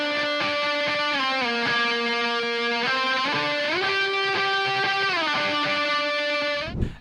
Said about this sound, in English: also playing some chords that are fitting the harmonies very well